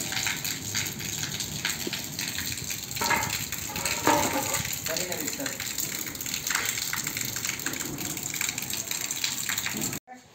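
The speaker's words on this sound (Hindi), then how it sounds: "आज ओले गिरवा दिए" Constant patter and gush of falling rain with hard ticks of hail, fairly distant and even, with a few faint voices in the background.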